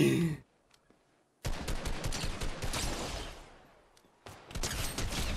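Rapid bursts of gunfire in Fortnite OG on PS4, dense rattling volleys separated by brief silences, loud and close.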